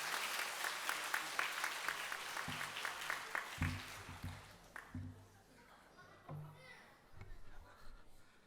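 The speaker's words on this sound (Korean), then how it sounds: "우리 박수로 다시 한번 맞이하겠습니다." Applause from an indoor church congregation, clapping loudly at first and then thinning out, with a voice speaking over and after it.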